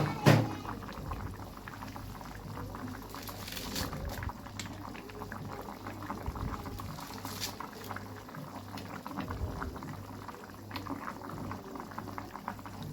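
A pot of fish curry with new potatoes bubbles and boils steadily throughout, with a constant close gurgling and popping of liquid and a low hum beneath, and no talking.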